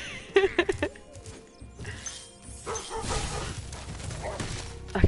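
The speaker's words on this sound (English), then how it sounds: "Oh no! I forgot about these dogs. They're awful. I hate these dogs." Dog enemies in the Spyro Reignited video game bark and yip in quick bursts amid a busy game soundtrack and effects, the barks loud and close at first, then mixed into the background clatter.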